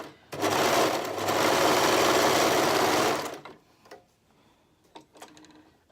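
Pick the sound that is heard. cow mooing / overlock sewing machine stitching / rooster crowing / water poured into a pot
overlock sewing machine stitching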